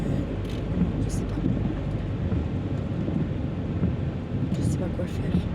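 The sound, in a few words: rain falling with thunder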